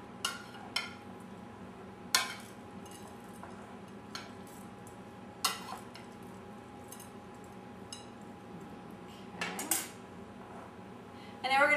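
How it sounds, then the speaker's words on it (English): Shelled sunflower seeds being stirred into a bowl of fruit, with soft clinks of a utensil against the dish and faint scraping, sparse and quiet, with no talking. "I'll mix those in."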